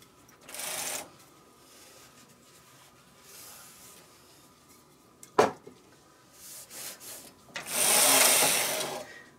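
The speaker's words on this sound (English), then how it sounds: "The carriage is moving a lot smoother now on the machine." Knitting machine carriage sliding across the needle bed after needles and latches were oiled, giving several bursts of broadband swishing and rattling, with a sharp clack midway and a longer, louder pass near the end.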